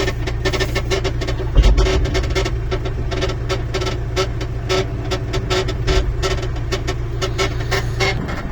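A homemade excavator machine runs and turns, its engine giving a steady, loud mechanical drone with dense rhythmic clatter throughout and a brief low thump partway through.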